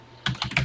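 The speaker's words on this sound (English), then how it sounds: "And let's get typing." Keys clatter on a TI-99/4A home computer keyboard while a TI BASIC program is entered, a few quick close presses after a brief quiet start, with no talking.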